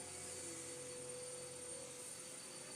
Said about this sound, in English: Sorry if you guys can hear the vacuum going in the background,